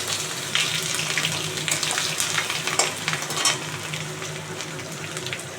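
Grated ginger dropped into hot oil with bay leaves, dried chillies and five-spice for khichuri, crackling and sizzling loudly up close with bursts of spatter and stirring.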